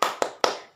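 A classroom group claps a quick rhythmic pattern at a primary school lesson, three sharp hand claps in close succession, near and fairly loud with a short ring after each.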